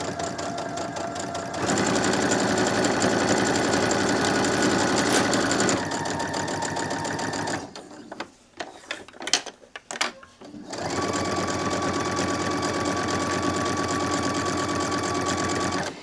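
A sewing machine back-stitches an AirPods keychain case, whirring in long, steady runs close by. A brief pause with a few clicks and handling noises breaks up the stitching.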